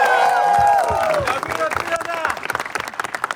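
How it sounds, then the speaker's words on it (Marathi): An audience at a fans' special film screening applauds the director, opening with a raised, whooping cheer that gives way to close, lively clapping from the crowd. "एकदा डिरेक्टर सरांसाठी जोरदार टाळ्या"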